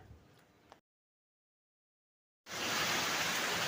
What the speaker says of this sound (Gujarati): વરસાદ દડબડાટી બોલાવે છે